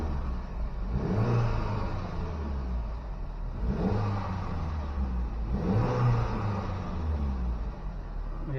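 A 2009 Chevrolet HHR SS turbocharged engine with a newly installed intercooler, revving in three steady swells, each rising and falling, loud and close, with no talk.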